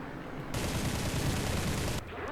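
Heavy tank gunfire from an IS-2 in the War Thunder battle game: a loud, dense burst of firing that starts abruptly and roars for about a second and a half before cutting off, over a steady engine rumble.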